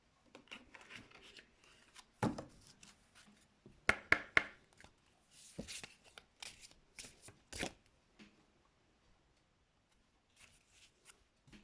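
Cards gathered together and shuffled on a table, giving quick riffling bursts and soft taps in clusters, close and moderately loud, then fading to near quiet.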